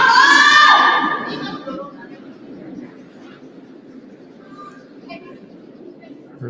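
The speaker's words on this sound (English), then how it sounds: "Heard the scream of whoa right out of hand." A player at a women's curling match in Miyota, Japan, screams a long, loud "whoa" in the first second, followed by quieter arena murmur and faint voices.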